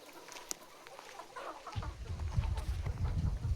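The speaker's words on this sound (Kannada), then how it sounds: "ನಾಟಿ ಕೋಳಿ ಸಾಕಿದ್ದಾರೆ" Native country chickens in a chicken shed on a farm, scattered soft clucks at first, then busier clucking and scratching noises close by.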